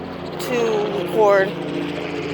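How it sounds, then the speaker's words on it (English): A tour helicopter passes overhead with a low droning engine hum, steady beneath a person speaking. "Sorry about the helicopter. We have helicopter tours that go by,"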